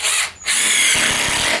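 An 18-volt cordless impact driver, Ryobi One+ or Dewalt, drives a screw into wood with a close, loud motor whine. It breaks off for a moment, then resumes with rapid hammering impacts.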